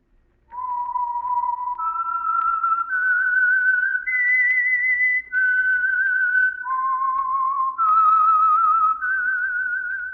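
A single clear whistled melody, slow and steady, stepping through a series of sustained notes with brief breaks, loud and close, with no other sounds.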